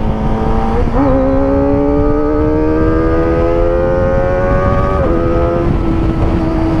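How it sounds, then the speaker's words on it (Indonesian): A Kawasaki ZX25R motorcycle engine with a racing exhaust holds a steady droning tone that slowly rises in pitch, with a brief blip near the start and another partway through. "Bahkan motor gua pun udah pakai knalpot racing itu masih kedengeran"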